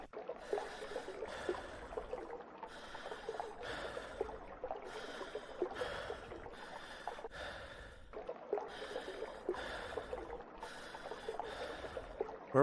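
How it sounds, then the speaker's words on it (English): A character in the Backrooms horror video game pants in a steady loop of heavy, rhythmic gasping breaths, close and continuous, with faint trickling water underneath. "I don't know why I can still hear my dude panting"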